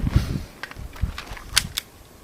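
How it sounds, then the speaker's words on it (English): Cartridges are pressed one by one into a Kel-Tec P3AT pistol magazine, giving a handful of sharp, close metallic clicks and snaps spaced irregularly over a couple of seconds, with faint handling rustle between them. "just loading up my mag here"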